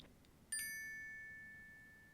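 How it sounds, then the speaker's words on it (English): A Google Pixel Watch plays its setup chime: one clear, bright electronic ding with overtones that rings out and slowly decays in a quiet room. "there was an initial chime on the watch that was loud, and then a secondary chime that was a little bit softer"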